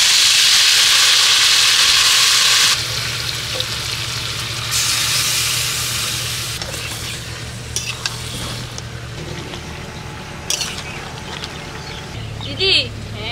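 Marinated duck meat dropped into hot mustard oil with cumin and bay leaf tempering, a loud burst of sizzling and hissing that settles into a steady frying crackle while stirring clatters and people talk.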